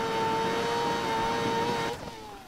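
A 2021 BMW M 1000 RR motorcycle engine screams at high speed with a loud, steady high-pitched whine, then drops in pitch as the throttle eases near the end.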